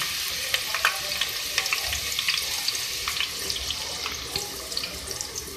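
Two medium crushed onions dropped into hot oil, sizzling and crackling loudly with scattered pops and stirring, up close and unbroken, with no voice.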